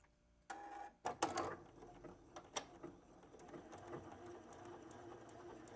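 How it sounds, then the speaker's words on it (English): A sewing machine, set to lock stitch, runs in short bursts as it sews along the edge of fabric for a butterfly. The mechanical whir starts and stops several times, up close and with no talking. "we're just going to sew right along the edge"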